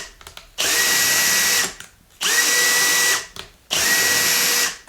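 A power drill whirs in three separate bursts, each about a second long, with short quiet gaps between them, close and loud.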